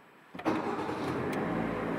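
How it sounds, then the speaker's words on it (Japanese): A car engine starts inside a road tunnel. A short cranking burst is followed by a steady idle that carries on to the end, with a faint hollow echo from the tunnel. "これでエンジンかかる"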